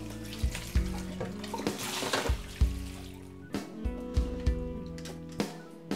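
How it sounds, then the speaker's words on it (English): Water sloshes and splashes inside a smoothie blender jug in short shaken bursts, with sharp knocks of the jug, close and fairly loud, no talking. "Just shake it out with a little bit of water."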